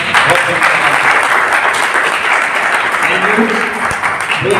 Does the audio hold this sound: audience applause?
yes